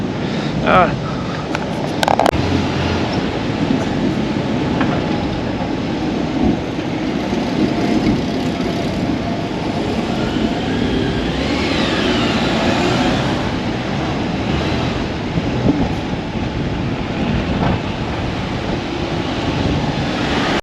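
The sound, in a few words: Porsche 996 driving in Tokyo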